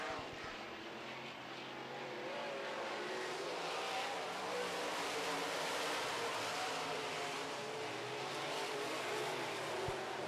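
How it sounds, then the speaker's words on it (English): Modified race cars roar around a short oval track in a heat race with two laps to go, engines blending into a sustained distant drone that swells and fades as the pack passes. "Two to go, and Kevin Sexton has the Miller Race Engines 57 out front looking good"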